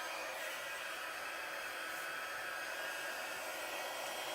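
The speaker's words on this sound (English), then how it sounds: "now I'm going to bring in my heat tool." A hot air tool blows with a steady, loud whooshing hiss throughout, constant and unbroken, with no voices.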